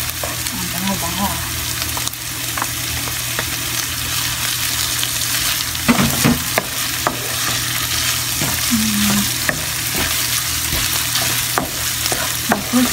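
Shredded chicken sizzles and crackles steadily in a hot pan, with occasional sharper clinks and scrapes as it is stirred.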